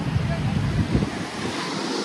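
Ocean surf at Chandrabhaga beach near Konark, a continuous close roar of breaking waves mixed with heavy wind buffeting the microphone.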